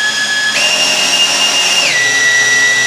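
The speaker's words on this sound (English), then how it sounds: "we're gonna be using our little fluid transfer pump, which works quite well" A cordless drill spins a small fluid transfer pump during a differential and transfer case oil change on a Cadillac Escalade or Chevy Tahoe, with a loud steady whine that jumps higher for about a second before settling lower.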